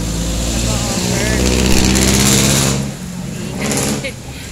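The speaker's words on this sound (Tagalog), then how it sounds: "Sorry, maingay yung kalsada." Steady road traffic on Quezon Avenue, a loud continuous rumble of passing cars and engines in the background, swelling then easing slightly, with a voice speaking over it.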